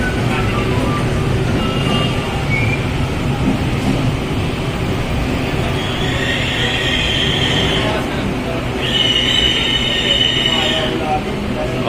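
An LRT light rail train in Manila rumbles steadily into a station, wheels grinding and brakes squealing in high bursts near the end as it slows, with crowd murmur underneath.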